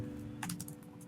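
Several quick keystrokes on a computer keyboard, clustered in a short burst over a steady low hum, close and fairly quiet.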